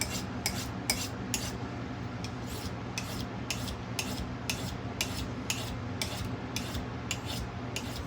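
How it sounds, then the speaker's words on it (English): A knife blade is scraped in steady strokes across the rough unglazed porcelain of a cup's base, about a dozen rasping swipes at an even rhythm, close and clear. "That's how you sharpen a knife."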